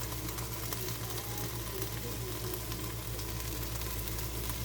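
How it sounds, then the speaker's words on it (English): Chilies and peppers sizzle in a hot pot for a chile relleno soup, a steady, fairly quiet frying hiss with faint crackles and no talking. "we're going to add our chilies, our peppers"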